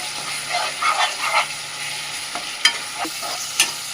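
Egg and drumstick curry with chili powder and salt being stirred in a pan, a steady close sizzle under soft scraping strokes and a few sharp clicks of the spoon against the vessel.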